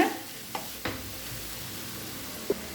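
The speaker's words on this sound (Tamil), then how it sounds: "நல்லா மிக்ஸ் பண்ணிக்கலாங்க தேங்காய் சேர்த்துட்டு ரெண்டு நிமிஷம் ஆயிடுச்சுங்க" Cabbage masala poriyal with coconut being mixed in a pan: a soft, steady sizzle with a few light spatula scrapes and taps, quiet and close, no talking.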